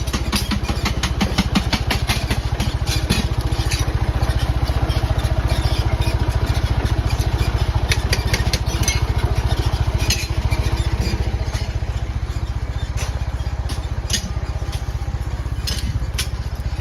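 A tractor engine runs steadily nearby with a fast, even low-pitched chug, accompanied by scattered clinks and knocks from work around it.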